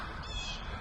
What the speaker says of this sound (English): Very loud bird there.